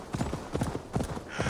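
Galloping horse hoofbeats while riding in Assassin's Creed Valhalla, a steady rapid clip-clop rhythm of repeated thuds, fairly close and continuous with no talk.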